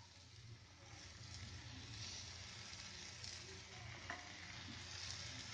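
Rava dosa batter frying in oil on a very hot pan, a steady low sizzle with faint crackle throughout, quiet and close with no talk.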